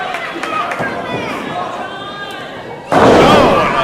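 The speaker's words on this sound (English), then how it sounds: "But Jon Davis slams him right back down" A wrestler is slammed onto the mat in a federated title bout, landing as a sudden loud thud near the end, followed by a swelling crowd roar over a steady arena din with commentary.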